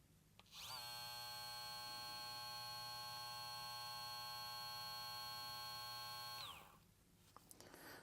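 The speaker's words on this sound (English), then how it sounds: "let's check the sound on the clipper" A VGR 880c electric hair clipper switches on and runs steadily for about six seconds with a bright, buzzing motor whine, then winds down and stops; fairly quiet and close, with no talking.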